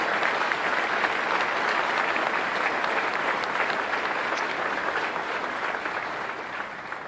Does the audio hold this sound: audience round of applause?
yes